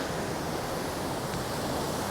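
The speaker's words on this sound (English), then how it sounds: "we saw this amazing waterfall system going on here. It just kind of funnels down in." A waterfall seen from a bridge on a gravel bike ride roars as steady, dense rushing water, loud and unbroken with no voices.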